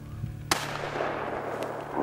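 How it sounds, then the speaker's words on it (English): One sharp rifle shot cracks at a shooting bench, followed by a lingering low hum and a faint later tap, heard close and without speech. "We grabbed the rifles and headed over to the bench and set up a target and got them shooting the guns."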